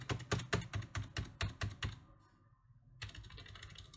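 Fingers tap rapidly on a Razer Ornata Chroma keyboard in a close, crisp burst of keystrokes, pause briefly into near silence, then resume with lighter, quicker taps.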